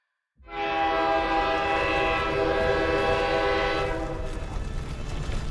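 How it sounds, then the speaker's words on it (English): In Girls' Frontline 2, a loud, sustained train horn blares as a train thunders into a station, with a rumbling rail roar beneath that continues after the horn fades. "the urgent blare of a train horn as it thunders into the station"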